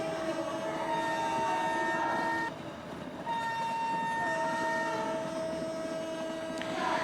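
A train in the Train Sim India game, train number 12988, rumbles steadily along while its horn sounds in long sustained blasts, loud and continuous over the rolling noise.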